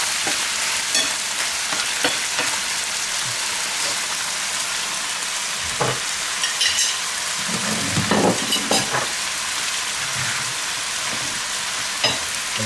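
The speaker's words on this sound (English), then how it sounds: "I could just throw everything on there at once and cook it on down." Chicken fried rice sizzles steadily on a hot griddle, a loud continuous fry broken by scraping and stirring strokes from a spatula, with no talk.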